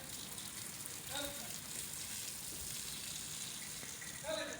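Water sprays steadily onto a dairy cow being bathed on a farm, a continuous broadband hiss of gushing water, with faint voices in the background.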